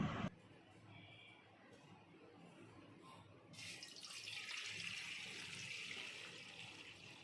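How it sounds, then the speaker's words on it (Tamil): Water from a tap pours into a pan sitting on a stove, a steady hiss that swells and grows louder partway through. "ஸ்டவ் ஆன் பண்ணி அடுப்பில் சட்டியை வச்சு தண்ணி ஊற்றிடலாம்"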